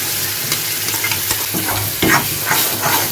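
Raw green masala paste hits a hot pan for bombil fish, giving a loud close sizzle with scraping stirs, a sharper burst of frying around the middle, then continued crackling, no voices.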